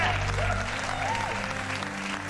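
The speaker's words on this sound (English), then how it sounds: "Cheers and applause for Marco, ladies and gentlemen." Applause and cheering for a game developer during a gameplay stream, a continuous clapping wash heard under a low hum and some faint voice-like tones.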